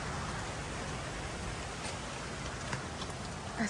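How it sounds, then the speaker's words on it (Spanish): Rain begins falling on a farm, a steady, soft wash of drops pattering on surfaces, fairly faint and continuous with no voices. "ya está empezando a llover"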